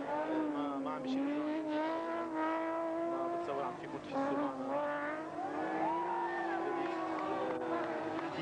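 A high revving engine drones continuously with shifting pitch, loud and close, like a race car pushing hard, with a crowd murmur beneath.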